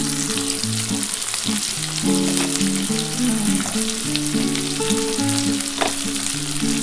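Onion and capsicum sizzle hard in a hot pan for a dhaba-style chicken curry, a loud, constant frying hiss that runs the whole time over faint steady tones, with no talking.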